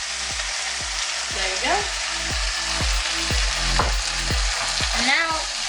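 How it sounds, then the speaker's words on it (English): Duck lo mein with vegetables and corn stir-fries in a hot pan, steady loud sizzle broken by rhythmic scraping strokes of a utensil about twice a second, close up, with a brief spoken phrase. "And now let's mix this all in and let it cook for 4 more minutes"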